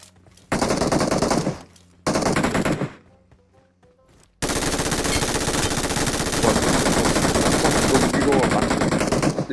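Rapid automatic gunfire in the mobile shooter PUBG Mobile, loud and close, in long sustained bursts broken by short pauses, with a brief quieter stretch before firing resumes nonstop; faint voices talk underneath.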